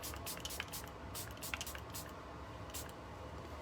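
Makeup setting spray mists onto a face in several short, soft hissing bursts, each spritz brief and close against a quiet room background.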